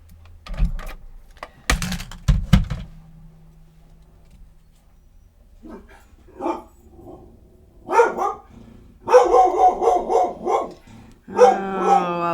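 A dog barks several times, loud and close: a few sharp barks early, a quiet stretch, then repeated barks and yips with growling later on.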